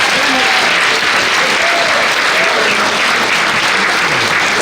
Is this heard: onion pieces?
no